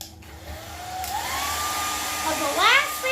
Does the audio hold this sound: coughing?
no